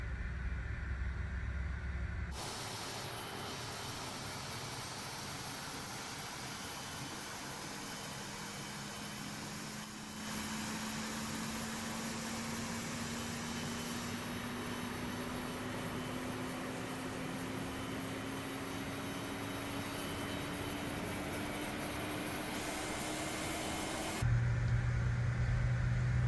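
CRJ-700 jet engine in Microsoft Flight Simulator spooling up during start: a steady, dense roar and hiss with a low tone that slowly rises in pitch for over twenty seconds, continuous and even, with no talking.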